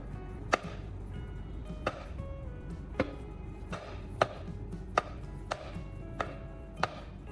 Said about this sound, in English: Let's try to cut a tomato.